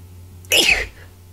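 One sharp, loud human sneeze bursts out against a faint steady hum and dies away quickly.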